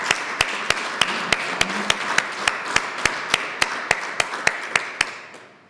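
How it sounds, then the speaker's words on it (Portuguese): A crowd applauds the decorated honorees at a solemn municipal holiday session in Ílhavo, a dense wash of clapping with one sharp, evenly spaced clap beating through it before the applause fades out at the end. "Uma salva de palmas também para os nossos condecorados"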